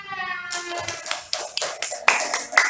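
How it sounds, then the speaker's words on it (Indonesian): Schoolchildren in an Indonesian classroom clap for their classmates, a short burst of scattered, uneven handclaps building into several louder claps, with faint voices beneath. "Beri tepuk tangan untuk teman-temannya."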